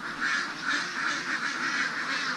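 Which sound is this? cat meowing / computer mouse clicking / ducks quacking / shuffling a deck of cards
ducks quacking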